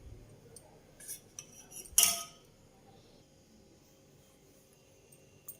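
A spoon clinks against a bowl while mixing chicken pieces with yogurt, garam masala, coriander powder and ginger-garlic paste, giving a few scattered close taps with one louder clatter in a quiet kitchen.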